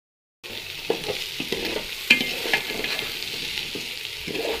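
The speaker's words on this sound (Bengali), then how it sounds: "পোলাওটাকে ভেজে নিচ্ছি সব কিছু মশলা টশলা দিয়ে" Pulao rice fries with spices in a pan, giving a constant sizzle with repeated scraping stirs of the spoon, and no talking.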